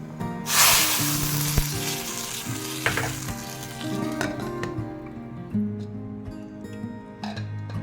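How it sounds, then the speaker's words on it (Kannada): Mustard and spices for a tempering hit hot oil for an Udupi-style Mangalore cucumber sambar, bursting into a loud, close sizzle that slowly settles, with occasional metallic clinks and ticks from the pan and no talking. "ಈಗ ಒಗ್ಗರಣೆ ಹಾಕ್ತೇನೆ."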